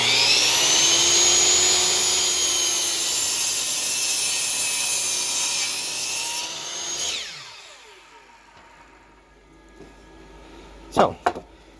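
A power saw whines loudly as it cuts a board of wood for a garden bed. The blade spins down to quiet after about seven seconds, then a couple of sharp knocks follow.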